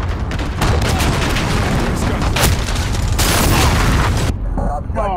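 A cruise missile launch rumbles and explodes in a video game as loud, sustained booms and blasts that roll on for several seconds before cutting out, with a voice talking over the noise.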